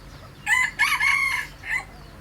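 A young yellow rooster with white ear lobes and a black breast crows once, a loud, close, broken call in several rising and falling segments.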